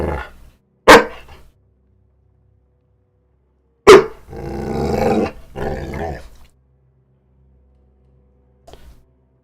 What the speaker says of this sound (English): talking to an invisible dog here.